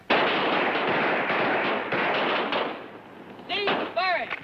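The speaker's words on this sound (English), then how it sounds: "Ready on the firing line. Commence. Firing." Rifle fire on a military firing range, a dense, loud burst of gunshots blending into a continuous roar for several seconds, then fading, followed by a voice speaking.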